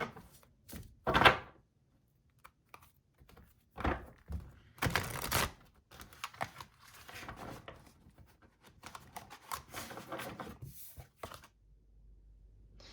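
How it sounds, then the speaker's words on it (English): Tarot cards are shuffled alone in quick bursts of papery riffling and soft taps, loud near the start, then lighter scattered shuffles and card handling with a few dull thumps. "So I'm going to shuffle"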